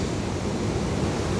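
Sea surf at Kovalam beach gives a steady, broad wash of wave and wind noise, loud and constant for a short stretch, with no voices.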